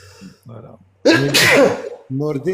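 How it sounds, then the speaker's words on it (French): A single loud, close sneeze bursts out in the middle of a live aviation chat, with a voice speaking briefly just before and after it. "Éternuer, mais à tes souhaits."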